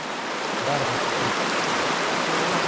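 A mountain river in the Gorgany range rushes with a loud, continuous broadband roar, steady and close throughout.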